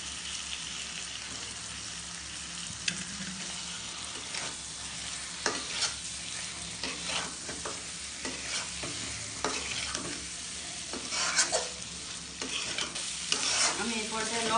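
Chicken pieces frying and being stirred into a spiced masala, for a yogurt chicken dish. Continuous sizzle runs throughout, with scraping stir strokes knocking irregularly against the pan, close and steady.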